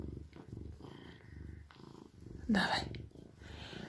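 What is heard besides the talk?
Oriental cat purring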